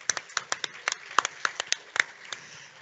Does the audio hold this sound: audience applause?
yes